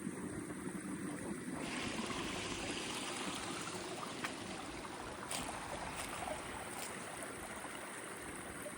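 A waterfall pours into a large outdoor koi pond, making a continuous broad rushing and splashing that stays fairly even and moderately distant throughout, with no speech.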